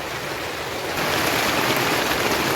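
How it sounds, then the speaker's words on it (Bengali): Rain patters densely onto a polythene sheet overhead, a close, steady hiss that grows noticeably louder about a second in and stays heavy. "পলিথিনের ওপর বৃষ্টি পড়লে কীরকম আওয়াজ হয় না"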